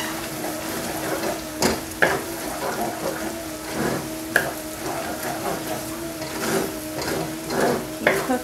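Minced garlic sizzling in a pan for crab noodle soup, a steady crackling fry broken by repeated scraping clicks of a spoon stirring, close and moderately loud with no talking.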